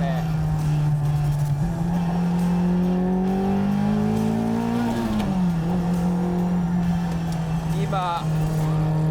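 Nissan 240RS Group B rally car engine revving to about 7000 rpm on a mountain road, a steady droning note that rises in pitch and drops on a gear change, with some speech over it.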